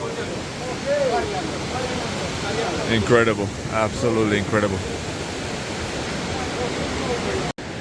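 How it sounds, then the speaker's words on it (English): A river flows below a terrace near the Tajik-Afghan border, a steady broadband rush that stays loud for the whole stretch while someone speaks briefly over it. "Look at that, the river heading towards Afghanistan."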